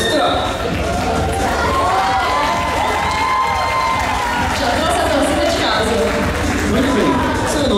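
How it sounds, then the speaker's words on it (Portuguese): Crowd at a Christmas-season cosplay parade cheering and applauding steadily throughout, a dense wash of shouts and clapping with children's voices mixed in, loud and continuous. "Palmas para o nosso segundo participante extra."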